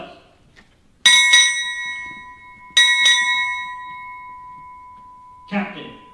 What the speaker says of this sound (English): four bells